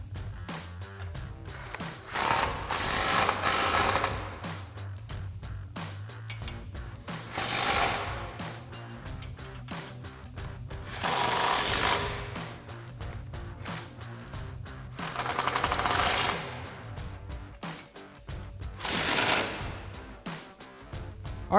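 An impact wrench with an extension and 5mm Allen socket tightens the bolts of a Westin HDX modular grille guard on a Toyota Tacoma, firing in five separate loud hammering bursts with quieter handling noise between them.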